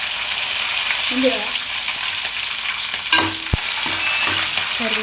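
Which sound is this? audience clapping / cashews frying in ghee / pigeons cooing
cashews frying in ghee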